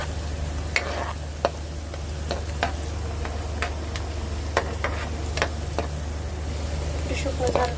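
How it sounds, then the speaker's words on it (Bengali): Garlic and spices tempering in hot oil for dal, a steady close sizzle and frying hiss with occasional ticks and knocks from the pan, under some talk. "এবার বাগার দেবো।"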